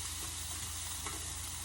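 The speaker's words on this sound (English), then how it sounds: "I'm just going to stir this around a little bit" Food being stirred in a pot on high heat, a steady sizzling hiss with soft scraping, quiet and continuous.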